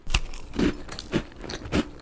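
Close, crisp crunching comes from someone biting into and chewing a salty vanilla pecan protein snack ball, with four distinct crackly bites spaced roughly half a second apart and no talking.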